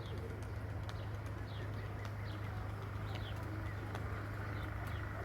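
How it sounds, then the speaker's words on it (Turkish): Soft cooing from pigeons or doves with a few light chirps, steady and close, over a constant low hum of background noise. "Bunlar benim yıllardır beslediğim kuşlar"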